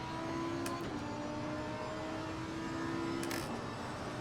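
A race car engine in the video game Assetto Corsa Competizione drones steadily at a constant pitch, with a brief shift around the middle, set against a dense, continuous whir.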